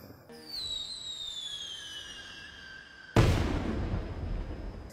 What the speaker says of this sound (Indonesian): Acara final dari festival itu ditutup dengan peluncuran kembang api